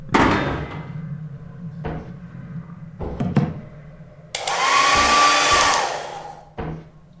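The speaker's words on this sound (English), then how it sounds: "Stay away, I got a hairdryer!" A hair dryer item in the video game Lethal Company blows with a loud, steady whoosh for about two seconds, preceded by scattered thuds and knocks, with no talking.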